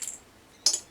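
Whole spices, including two cinnamon sticks, drop into a pan with two quick, light clinking hits, each short and close, with quiet between them.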